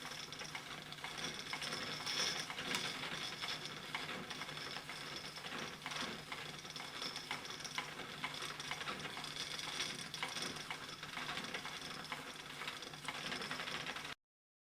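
A double flyer spinning wheel turns steadily while flax is spun, giving a faint, even mechanical whirring and light rhythmic clicking that runs unbroken, with no talk.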